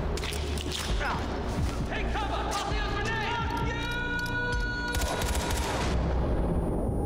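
Rapid automatic gunfire from the Far Cry 4 video game, dense bursts layered with game music and effects, loud and continuous through the whole stretch, with a voice speaking over it.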